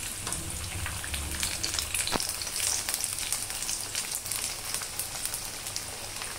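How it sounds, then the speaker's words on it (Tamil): Vegetable cutlets shallow-fry in oil in a pan, a steady close sizzle and crackle that holds level throughout, with a single faint tap partway through and no voices. "ஹை ஃப்ளேம் வச்சிங்கன்னா ரொம்ப கருகிடும் லோவாக வச்சிங்கன்னா திரிஞ்சு போயிடும் மீடியமில் வச்சு பொறுமையாக வறுத்தெடுக்கணும்"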